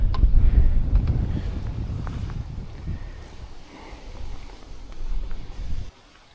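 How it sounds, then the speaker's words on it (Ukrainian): Strong wind on a riverbank while feeder fishing on the Desna buffets the microphone with low, rumbling gusts that ease and swell, then suddenly drop away at the end. "там такий вітер стругає, неможливо ловити"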